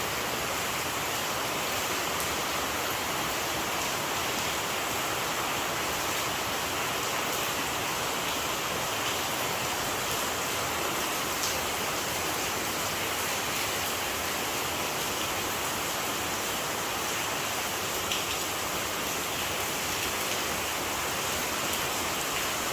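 Heavy rain pours down in a dense, unbroken hiss that holds steady and fairly loud throughout, with no voices and no pauses.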